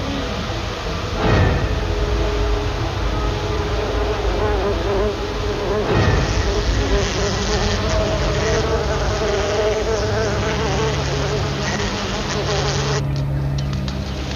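Honeybees, Apis mellifera, buzz steadily and loudly throughout, a dense continuous drone close by with no talking.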